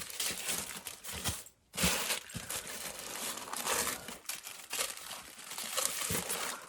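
Close, continuous crinkling and rustling of thin tissue paper from a Chanel package, with one short pause partway through.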